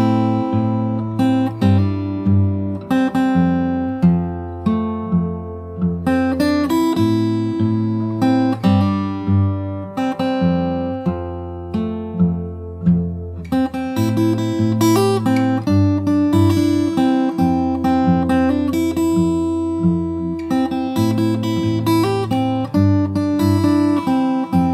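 Fingerstyle acoustic guitar plays the verse of a song, with plucked bass notes and melody in a steady rhythm, close and clear, alone with no talk.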